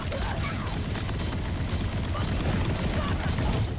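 Rapid SMG bursts crackle densely and continuously in a Borderlands firefight, loud and close with low booms mixed in, no talking over it.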